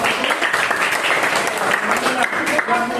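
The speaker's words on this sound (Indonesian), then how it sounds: "saya berikan tepuk tangan untuk kelompok 1" A class applauding a student group after their presentation, dense clapping from many hands filling the room at close range, steady and loud throughout.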